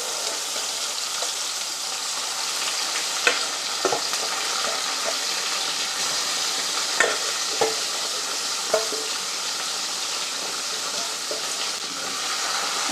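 Marinated chicken frying in a pan with browned onion and green chilies, a steady close sizzle under repeated scraping and clacking as it is stirred, irregular stirring knocks scattered through.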